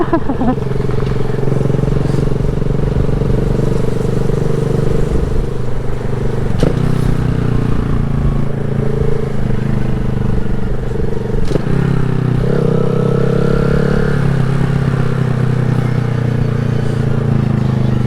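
A 2020 Honda Grom motorcycle in first gear gives a steady, close, droning engine note throughout the ride, with wind rush and a couple of brief clacks over the top.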